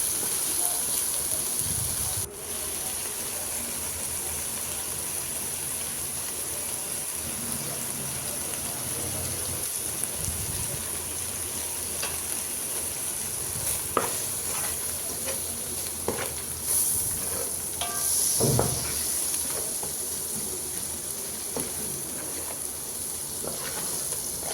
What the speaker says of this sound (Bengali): মশলা আর ডিমটা একটু ভেজে নিলাম